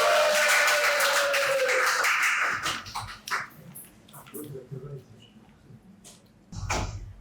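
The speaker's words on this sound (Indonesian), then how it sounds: "Jadi tepuk tangan dong." A burst of applause and clapping from a small group at a student podcast session fades after a few seconds, followed by scattered shuffling and knocks.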